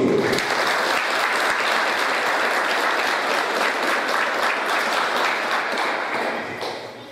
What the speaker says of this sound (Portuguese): Vamos receber uma calorosa salva de palmas